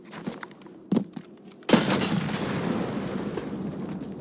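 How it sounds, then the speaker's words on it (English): A grenade goes off in a shooter game: a few sharp clicks and thumps lead into one loud close blast whose rumbling roar lingers and slowly fades. "Oh my god, he threw a grenade."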